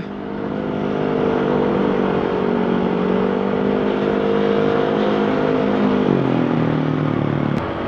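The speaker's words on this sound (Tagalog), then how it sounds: "Grabe yung motor, oh." A motorcycle engine drones steadily under load on a night ride along the Marilaque highway, a close, continuous hum that shifts pitch downward near the end as the revs drop.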